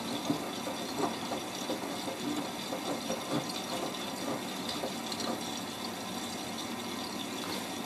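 A Miele W562 Prestige Plus 6 front-loading washing machine fills with water for a deep-level extra rinse while washing a bathrobe. The water rushes and hisses steadily, close and continuous, with small sloshing irregularities throughout.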